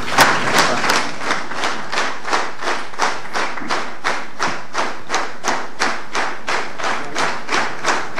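Rhythmic unison clapping from an assembly in parliament after a presidential speech, loud and close, with each clap landing at a steady beat roughly three per second and no talking over it.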